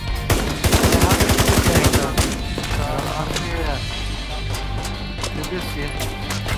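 Gunfire in The Division 2 closed alpha, dense rapid bursts of automatic shots crackling early on, then scattered single reports mixed with game effects and voices talking over the action.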